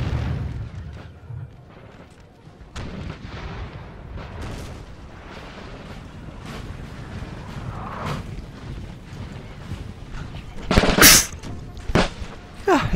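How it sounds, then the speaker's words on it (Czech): Gunfire and artillery explosions rumble in a Napoleonic Total War 3 multiplayer battle, a dense distant crackle of musket volleys and booms, with a sharp loud burst near the end. "Tam slyším nějaké výstřely už."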